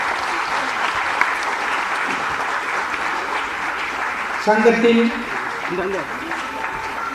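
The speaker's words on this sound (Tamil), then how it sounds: "சுதீஷ் அவர்களுக்கு எல்லாம் கைத்தட்டுங்க சார்." Audience applause at a Delhi Tamil Sangam felicitation event for Sudheesh, a steady wash of clapping filling the hall while someone speaks over it into a microphone.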